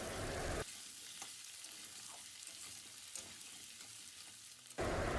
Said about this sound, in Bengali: এবার আমরা আলুগুলোকে ভেজে নেব, হালকা লাল লাল করে ভেজে নেব।